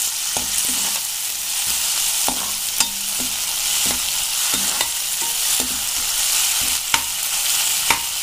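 Ginger-garlic paste and tomato frying in oil sizzle steadily in a pan while a utensil scrapes and stirs at an irregular rhythm, the sharp knocks and scrapes standing out above a constant hiss.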